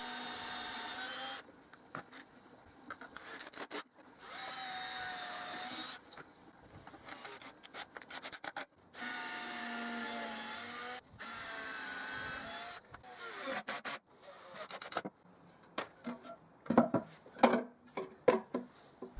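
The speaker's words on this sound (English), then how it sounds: "I drilled two pilot holes in the ends of each piece of pine and then screwed them to the bottom of both the front and the back plywood panels." A power drill whines in repeated bursts of several seconds each while drilling pilot holes and driving screws into pine boards attached to plywood panels, close and steady, then gives way to short clicks and knocks at the end.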